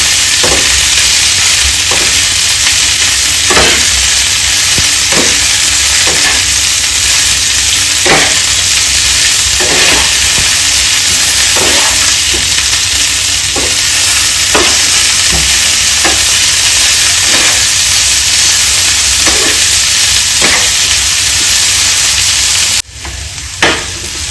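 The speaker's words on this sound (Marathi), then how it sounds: "गाजर कोबी शिमला मिरची हे सगळं त्यामध्ये ॲड करून घेणार आहोत आणि त्याला व्यवस्थित असं मिक्स करून घेणार आहोत" Soya chilli stir-frying in a pan with carrot, cabbage and capsicum: a loud, steady sizzle runs throughout, punctuated by regular scraping stirs of the spatula every second or so, close and without speech.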